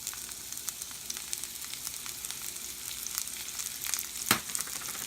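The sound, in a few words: onions frying in hot pan with vegetable oil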